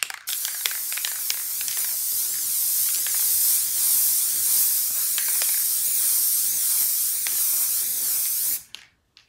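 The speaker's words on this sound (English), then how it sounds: "Let's just see what it looks like after I spray it." An aerosol spray can hisses in a long continuous burst as a DTF-printed car tag is coated, the spray cutting off abruptly at the end with a few small clicks of the nozzle.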